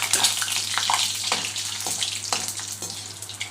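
Gram flour fries in hot oil in a pan, a steady, close hissing sizzle with soft crackles and small pops running throughout.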